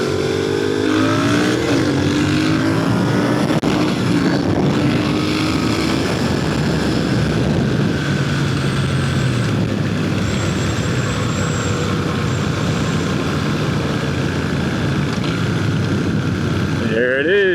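A Triumph Thruxton R motorcycle accelerates on a café-style ride, its engine note climbing through the gears under heavy wind noise, loud and continuous from the rider's position, with voices talking over it.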